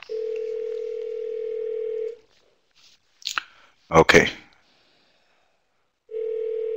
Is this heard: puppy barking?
no